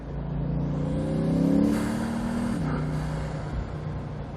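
A Bugatti Veyron 16.4 Grand Sport Vitesse driving, its engine drone rising in pitch as it accelerates, swelling to a peak and then settling into a steady hum with road noise, heard from inside the car.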